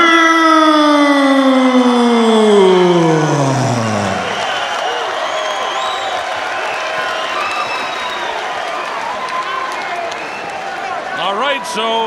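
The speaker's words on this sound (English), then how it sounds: "The crowd is in a frenzy" A boxing arena crowd in Auckland roars in a frenzy for a heavyweight bout, a sustained dense roar and cheering following a falling siren-like wail, with an announcer talking over it.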